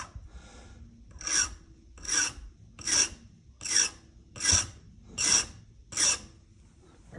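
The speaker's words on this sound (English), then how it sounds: "All right, I'm going to file this flat." A metal file rasps across a knife handle clamped in a vise while an old Camillus Barlow pocketknife is rehandled: seven even, loud strokes in a steady rhythm, with no talking.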